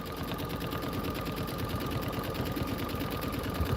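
A sewing machine runs steadily while stitching quilt filler blocks, a continuous close mechanical whir that holds even for several seconds without pause.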